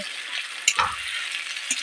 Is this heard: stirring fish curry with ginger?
yes